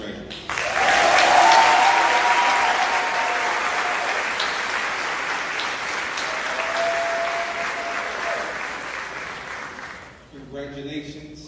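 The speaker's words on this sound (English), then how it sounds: "Can we just give one more loud round of applause for these graduates?" Loud, sustained applause from a crowd at an academy graduation award ceremony, rising quickly to a peak and continuing steadily for about ten seconds before dropping off, followed briefly by a voice.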